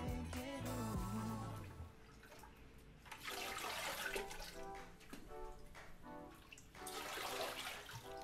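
Running water rinses yarn during natural-dye mordanting in a basement, a close splashing, gushing stream that surges in bursts with brief quieter gaps, alongside some faint tonal clatter.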